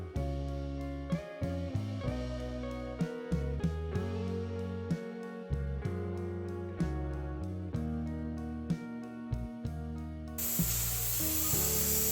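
Steady background music plays, then a loud, sharp sizzle of spices and asafoetida hitting hot oil breaks in near the end.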